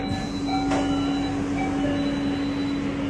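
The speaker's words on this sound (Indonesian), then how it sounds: "Teng deng, seperti itu ya si notifikasinya ketika pintu dibuka." A two-note notification chime rings inside an LRT Jabodebek train as its doors open at Cikoko station, sounding clearly over the steady hum and rumble of the carriage.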